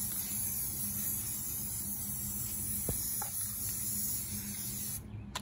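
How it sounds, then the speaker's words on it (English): Yellow spray paint hisses from an aerosol can onto an art topper, a close, continuous hiss lasting about five seconds before it stops abruptly, with no one talking. "So I'm going to go on and spray paint it."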